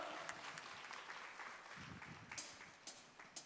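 A church congregation at a Sunday youth worship service claps together in thanks, a soft, fairly distant patter of many hands with a few sharper claps standing out near the end.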